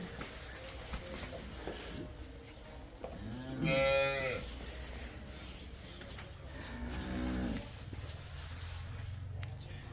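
A cow gives a loud, drawn-out moo at close range on a dairy farm, followed by a second, lower moo a few seconds later over a low background rumble.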